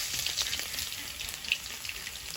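Oil heating in a wok for frying garlic, a bright crackling sizzle with a steady hiss and scattered pops, close and continuous, no speech.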